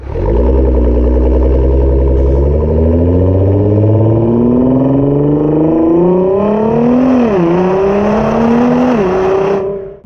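A Nissan GT-R with an Armytrix exhaust and its valves open revs hard, engine pitch climbing steadily with a brief dip and rise near the end, loud and close with no talking.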